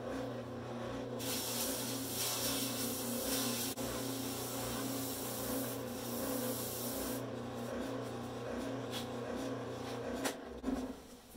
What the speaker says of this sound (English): We're going to take it to the spindle sander now and just try and get this rounded out.